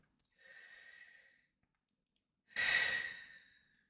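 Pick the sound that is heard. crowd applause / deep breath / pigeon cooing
deep breath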